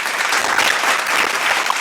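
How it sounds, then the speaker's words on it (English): Audience applause for teachers at a school Children's Day event, a dense, steady clapping from a crowd that holds loud and even for the whole stretch, with no voices over it. "Please give a big round of applause for our talented teachers."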